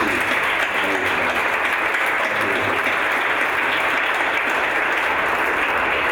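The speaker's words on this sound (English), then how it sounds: "Let's give Margie another round of applause." A crowd at a Board of Education meeting gives Margie a round of applause: dense, sustained clapping that stays loud and even throughout.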